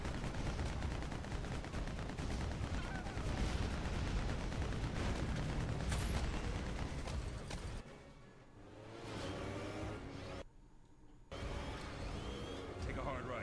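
Gunfire in a Batman video game, a dense loud barrage of rapid shots and blasts filling most of the stretch, then easing into quieter game sounds with a brief silent gap near the end.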